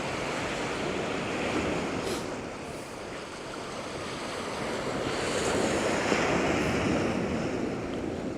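Waves breaking on the shore at Felixstowe in near gale force winds: a continuous loud roar of surf and wash mixed with heavy wind buffeting on the microphone, with no talk.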